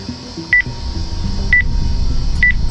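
A telephone number is dialed, with a few sharp tone beeps spaced about a second apart over a low background hum and murmur.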